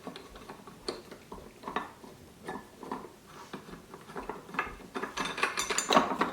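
Someone unscrews the front of a Philips pasta maker during cleaning, giving irregular plastic ratcheting clicks and rattles that grow busier and louder toward the end, with no speech.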